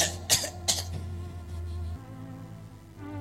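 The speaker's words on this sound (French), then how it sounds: "Tu commences à tousser comme ça." Two quick coughs close together near the start, with a steady low hum continuing underneath.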